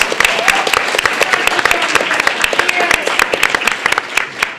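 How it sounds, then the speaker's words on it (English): Sustained convention audience applause at BronyCon 2013, dense rapid clapping from a crowd throughout, loud and steady. "Everybody, clap for the staff."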